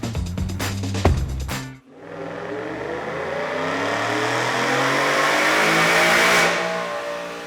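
A supercharged 2021 Ford F-150 with the 5.0L V8 makes a dyno pull, starting with a few short blips and then a sustained, loud, rising rev that climbs steadily for several seconds before cutting off.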